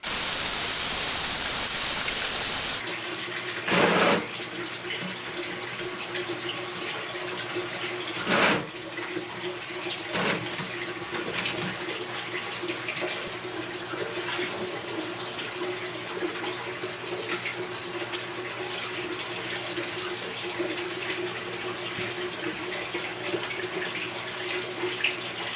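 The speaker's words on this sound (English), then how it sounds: "tub's ready to be filled" Water rushes from an apartment faucet into a bathtub, a steady hiss with low gurgling throughout, punctuated by a few brief sharp knocks.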